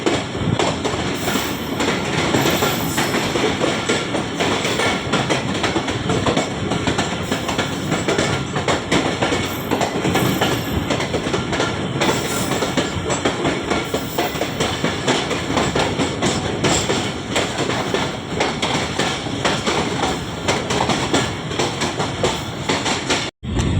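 The Sir Syed Express passenger train rumbles steadily along the rails, loud and close, with a continuous clatter of wheels throughout.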